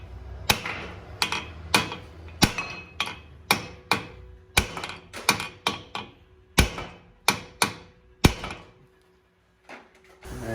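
A Hyundai Elantra brake rotor is struck over and over with a hammer to loosen it, sharp loud metallic whacks in an uneven rhythm, about fifteen blows with brief pauses between them.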